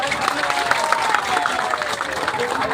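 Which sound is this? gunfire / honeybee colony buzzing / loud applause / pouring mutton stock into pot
loud applause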